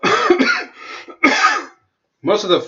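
A few raspy coughs and throat clearing, close and loud, mixed in with a person's speech in short bursts.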